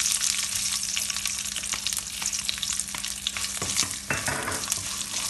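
Curry leaves and turmeric powder frying in hot oil for puliyodharai, a steady close sizzle with stirring scrapes and clicks throughout, no voices.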